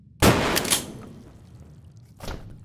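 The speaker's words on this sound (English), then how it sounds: "Oh, did I really shoot you that badly?" Gunfire in a Quest VR shooting game, a loud burst of sharp reports followed by a second shot about two seconds later, close and punchy with no talking.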